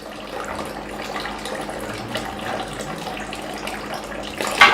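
Water runs steadily from the hose of a Kangen water ionizer machine into a glass, a continuous close splashing pour that holds even throughout and ends with a brief louder splash.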